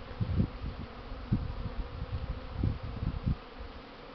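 Honeybees buzz in a steady drone during a strong spring cleansing flight, with swells as individuals pass near the microphone, a busy outdoor swarm sound without voices.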